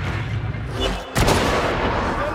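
Gunfire in Warhammer 40,000: Darktide, with a dense, loud barrage of shots and booms and a sharp, louder blast partway through amid a continuous roar of combat.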